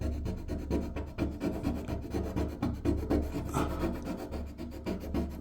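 A plastic scraper rasping emulsion paint off a surface in quick repeated strokes, a close, scratchy rhythmic scraping with no talk.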